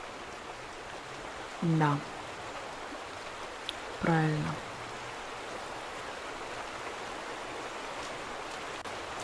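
Water rushing down rapids in The Vanishing of Ethan Carter, a steady hissing roar throughout, with someone speaking briefly twice over it.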